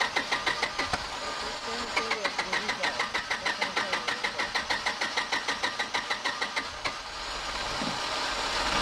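A 20kW Power Pallet generator engine cranks with a fast, steady, rhythmic churning for several seconds. Then it catches and settles into a running hum, with a voice talking over it.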